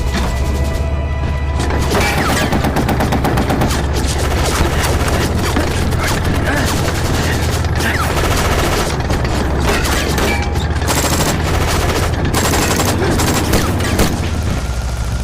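Heavy cannon fire and gunfire in a war movie battle, dense and continuous with repeated loud booms and crashing blasts throughout, while shouted voices call out over the din.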